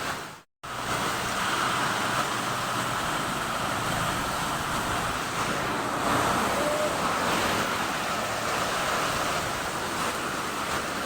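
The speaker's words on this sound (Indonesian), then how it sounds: "Dan hujan deras di Ciamis." Heavy rain pours down in Ciamis, a loud, dense, unbroken hiss and patter that fills the whole scene after a brief silent cut near the start.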